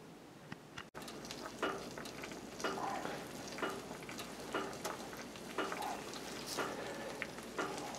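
Meat loaf cooking in a Dutch oven over coals, giving a soft continuous sizzle with faint crackles and pops at an even level, heard alone.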